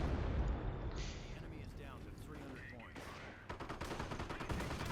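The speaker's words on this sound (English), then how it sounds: "Blood's under fire here from the Sherman" Gunfire and artillery-like blasts from a Sherman tank battle in Company of Heroes, a rapid series of loud, close shots and bursts, densest toward the end, with talk over it.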